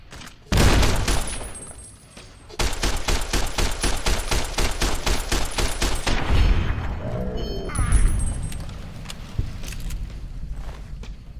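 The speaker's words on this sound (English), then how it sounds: "Yep, he had a grenade launcher." Rapid bursts of automatic gunfire mixed with heavy grenade launcher explosions in the Fallout New Vegas video game, a loud sustained barrage with booming blasts and a lull before the firing resumes.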